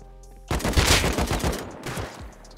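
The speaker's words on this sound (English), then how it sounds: "Oh, did the turret shoot me from that far?" An automated turret in the video game Rust firing a sustained burst, with rapid loud cracks that start abruptly, hold for about two seconds and then trail off, heard alone without talk.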